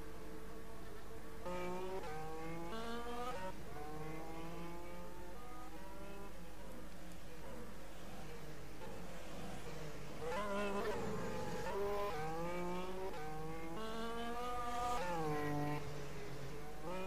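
A Formula One race car engine in the rFactor racing game at the Monaco Grand Prix whines at high pitch, revving and shifting continuously for the whole stretch, steady and fairly quiet.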